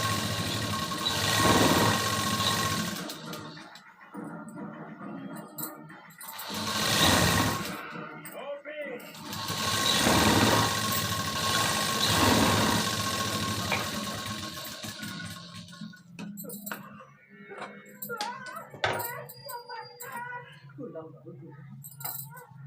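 A sewing machine stitches a crosswise strip on a katori blouse in several short runs, a close, humming whir that starts and stops, followed by quieter handling clatter and someone speaking.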